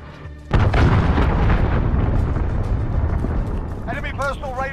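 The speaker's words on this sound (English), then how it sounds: "Enemy cruise missile incoming." A heavy cruise missile explosion in Call of Duty Modern Warfare multiplayer erupts suddenly into a loud, sustained roaring rumble after a brief quiet start. A short synthetic voice cue comes in near the end.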